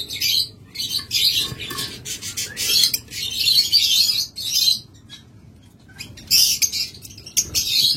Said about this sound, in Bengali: এখানে একটা চমৎকার ইউইং জোড়া রয়েছে